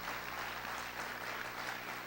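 A church congregation claps during a sermon, a faint, steady, continuous patter of applause heard from a distance, with no voices standing out.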